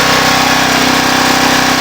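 A homemade towable backhoe's small engine runs loud and close, holding a steady, buzzy idle with a fast regular pulse and no change in speed, with no talking over it.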